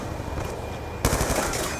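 Automatic gunfire in a Call of Duty Black Ops 2 multiplayer match bursts out suddenly over constant game noise, a loud close rattle of rapid shots.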